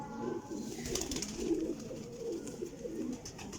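Pigeons, including a Teddy bird, coo in low rolling bursts that repeat through the moment, close by and moderately loud without speech.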